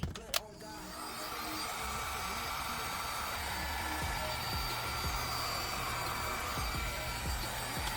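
Heat gun heating heat shrink tubing during a car amplifier installation, a steady blowing whoosh after a brief click at the start, continuous and close, with occasional faint knocks.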